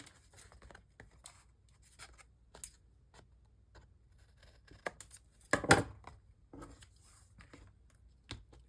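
Scissors snip away small bits of paper during an art project, a series of soft, close clicks and short cuts spread irregularly, with one louder burst of rustling in the middle.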